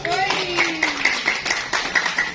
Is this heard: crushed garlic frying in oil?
no